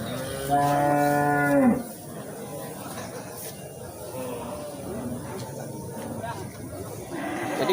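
A cow at a livestock market in Aceh's Gurugok area lets out one loud, drawn-out moo near the start, then a busy crowd murmur of the market follows, with people talking throughout.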